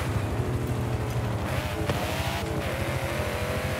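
A Porsche GT3 RS racing engine roars in Forza Horizon 5 during a race, a loud, continuous, close-up engine drone with slight pitch shifts throughout.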